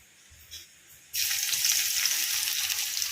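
Crushed garlic drops into hot oil with popping mustard seeds, and after a quiet second a sudden loud, bright sizzle bursts up and keeps crackling steadily close by.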